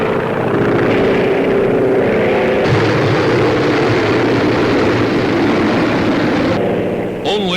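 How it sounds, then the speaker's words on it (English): A World War II bomber roars low over beaches on a raid above occupied France, a loud, constant engine drone filling the whole stretch, with the pitch shifting partway through and a narrator's voice under it. "Roaring in over the beaches, movie camera planted squarely in the nose of a bomber"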